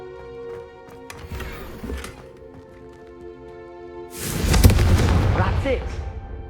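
In Hogwarts Legacy, a Confringo fire spell blasts candelabras: after a quiet stretch under music, a loud fiery burst erupts and rumbles for about two seconds, with speech also present.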